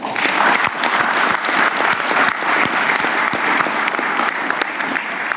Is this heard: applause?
yes